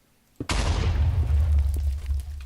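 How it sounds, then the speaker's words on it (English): A Stargate block explodes in the Minecraft SGCraft mod: a sudden sharp blast followed by a sustained, loud rumbling roar that fills the rest of the moment. "Large explosions, and it vaporizes itself and anything relatively close by."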